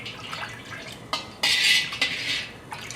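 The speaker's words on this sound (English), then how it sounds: "So now I just gonna give them a stir." Hot vegetable oil stirred in a metal wok, with scraping and clanking strokes of a utensil against the pan, one longer scrape loudest midway, close up with no talk.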